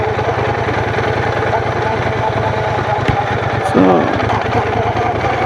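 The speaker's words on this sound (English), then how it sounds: "So let's enjoy the engine now." A Brixton Cromwell 1200 motorcycle engine idles close by with a steady, throbbing low pulse, then a short rev near the end, while a voice speaks briefly.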